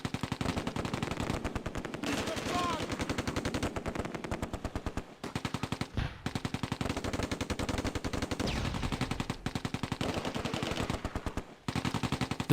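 Rapid bursts of Vickers machine gun fire in the Close Combat war game, a dense, loud rattle of shots running almost continuously with only brief pauses between bursts.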